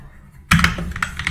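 Typing on a computer keyboard during a coding session starts abruptly after a short silence, with quick, close, clicky keystrokes in an uneven rhythm.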